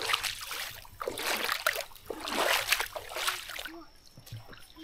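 A child splashing and playing hard in a deep creek, with continuous sloshing and splattering water close by, fairly loud and steady, easing off toward the end.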